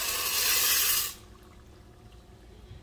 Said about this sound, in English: I've got some boiling salted water, and I'm going to put 4 cups of elbow macaroni in here